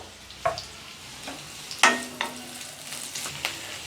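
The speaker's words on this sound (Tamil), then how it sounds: "இப்போ இத சேர்த்துக்கிறேன் இந்த வெங்காயம் ஒரு 2 நிமிஷம் நல்லா வதக்கிட்டுக்கோங்க" Sliced onions sautéing in hot oil for a Kara chutney, with a soft steady sizzle and occasional close scrapes and clicks of a ladle stirring against the pan.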